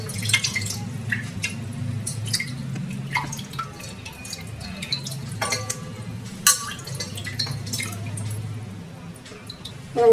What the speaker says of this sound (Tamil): இல்லைன்னா இப்படி தண்ணி ஊற்றுங்க